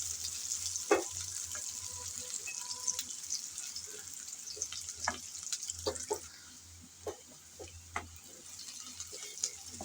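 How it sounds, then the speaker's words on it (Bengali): Chopped onions sizzle steadily in a hot pan of oil while being stirred, with occasional clinks and scrapes of the spoon cutting through the continuous frying hiss during preparation of a pomfret fish dish. "পেঁয়াজ কুচি দিয়ে নেড়ে চেড়ে হালকা ব্রাউন কালার করে ভেজে নেব।"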